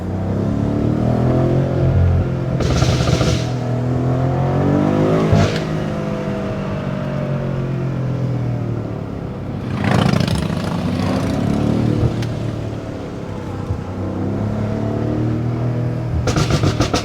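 A BMW M5 engine revs hard and loud in repeated bursts with rising and falling harmonics, broken by high hissy screeches as the tires break traction during burnouts on a mountain road drive.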